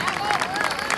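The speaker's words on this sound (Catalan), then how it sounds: "Un fort aplaudiment per la secció infantil de bastoners de" Brief burst of audience clapping at a Barceloneta festa major giants event, honoring a children's bastoners stick-dance section, with crowd babble and voices mixed in.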